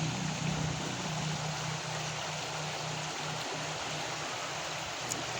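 A river flows steadily nearby, making a continuous broadband rush of water with no break, while a faint low hum runs underneath.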